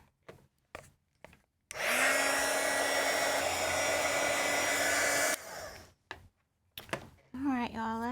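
A hair dryer blows over painted sunflower decoupage pieces, switching on with a steady loud whine for several seconds before cutting off, with a person talking before and after.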